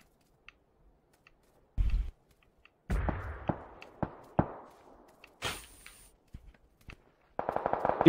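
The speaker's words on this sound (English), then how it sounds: "Somebody's shooting at us." Gunfire in a PUBG video game: scattered single shots, some loud and near, others fainter and farther off, with long quiet stretches between them and a quick rattling burst at the end.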